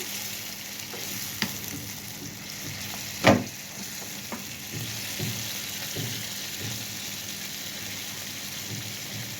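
Chopped tomatoes cooking down in a pan: a soft, steady sizzle and bubbling with a few sharp clicks and one louder clatter partway through, fairly quiet and alone.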